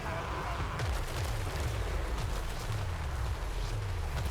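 Artillery units fire in a video game, a barrage of deep booms and thumps rolling one after another at an irregular rhythm, loud and continuous, with a faint voice now and then underneath.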